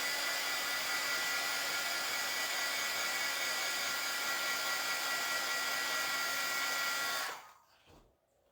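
A hair dryer blows loudly and close at a constant pitch for about seven seconds, then switches off and its whir fades out.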